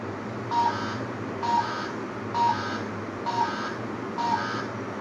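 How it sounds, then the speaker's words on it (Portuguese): A light-sensor alarm on a small robotics project sounds when the light drops: five evenly spaced, short electronic beeps about one second apart over a steady background hum. "Quando a luminosidade abaixa, a gente soa o alarme"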